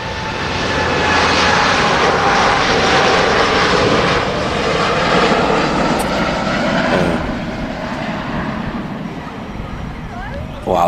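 A Gulf Air Boeing Dreamliner bound for Bahrain rolls for takeoff at Manchester Airport, its jet engines a loud, steady broadband roar that stays high throughout with a slight easing toward the end.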